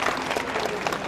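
Audience at a professional pool tournament breaks into short, moderate applause after a shot, a brief burst of scattered clapping heard from within the hall.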